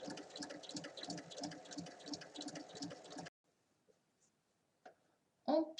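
A sewing machine stitches fabric about 1 mm from the edge while a multi-pocket bag is sewn, running in a steady rapid rhythm for about three seconds, then stopping, followed by a few faint handling sounds.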